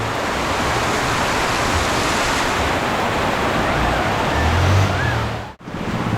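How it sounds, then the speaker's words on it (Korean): Heavy rain pours and floodwater rushes over a submerged road in a dense, constant roar that stays loud and unbroken, with no voices. "와 드디어 홍수가 났습니다 와다 잠기 도로 다 잠겼어요"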